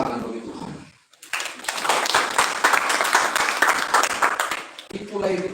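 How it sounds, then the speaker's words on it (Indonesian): A church congregation breaks into broad, sustained applause and clapping for about four seconds, loud and close, with a preacher's voice speaking before and after it. "Tepuk tangan bagi Tuhan."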